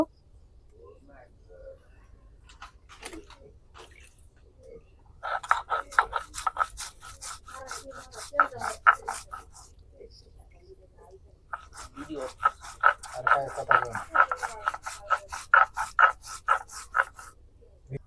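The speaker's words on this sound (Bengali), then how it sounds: "এখন ফার্স্টে আমি জিরা বাইটা নিব" Cumin seeds are ground by hand in two bursts of rapid, rhythmic scraping strokes, separated by a quiet pause, with a voice talking at times.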